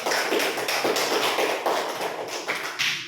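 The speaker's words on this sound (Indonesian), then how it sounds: "Kita kasih aplaus dulu untuk Alia." Applause in a classroom, a steady patter of many hands clapping together indoors for about three seconds, fairly close and even in rhythm, with no talk over it.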